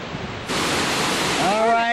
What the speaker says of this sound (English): You can hear the water down in there.